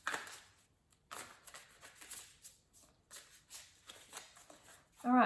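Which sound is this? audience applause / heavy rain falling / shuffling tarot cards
shuffling tarot cards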